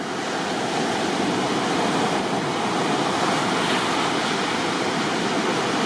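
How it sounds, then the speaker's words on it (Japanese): Ocean surf breaking continuously along a surfing beach, a loud, dense roar of waves and wash with wind buffeting the microphone, no voices. "いい波だよ。"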